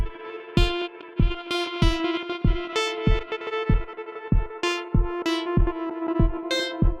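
Rhythmic electronic kick drum hits from an Elektron Analog Four MKII and guitar notes through a Walrus Audio Fable reverb pedal, a lush, lingering reverb tail washing behind each strike, steady and fairly loud.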